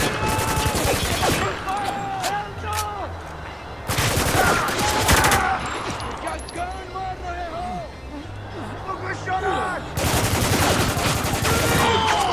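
Sustained bursts of rapid gunfire in the war shooter Spec Ops: The Line, loud and continuous with heavy volleys, shouted voices and combat chatter mixed in throughout.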